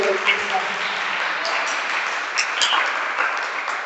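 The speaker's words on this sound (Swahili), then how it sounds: "Tupigie Yesu makofi makubwa" A church congregation claps together during a Sunday sermon, a steady wash of many hands sustained throughout with a few sharper claps and voices mixed in.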